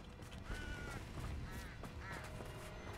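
Faint bird calls in Hogwarts Legacy gameplay, several short quacking or cawing cries spaced about half a second apart over a steady game ambience, heard at a distance.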